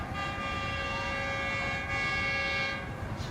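A Green Line express train rushing past at speed, a loud, steady rolling rumble with a sustained horn tone held through the whole pass.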